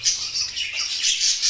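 A rainbow Japanese hybrid budgerigar squawks in a series of bright, harsh calls close by, repeating in uneven bursts without pause.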